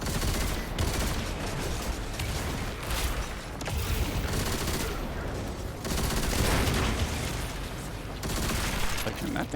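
Rapid enemy gunfire fills a Destiny firefight, with dense overlapping bursts of shots and a loud, continuous barrage that barely lets up.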